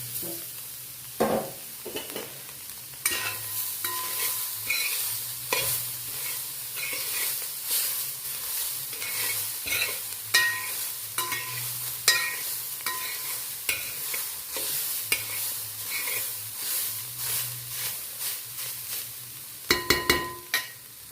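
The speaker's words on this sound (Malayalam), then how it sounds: "ഇനി ഈ ഉരുളിയിലേക്ക് തന്നെ തേങ്ങ ഇട്ട്" Continuous frying and sizzling of grated coconut roasting in a heavy pan with repeated scraping and stirring strokes, steady and close, with no voices.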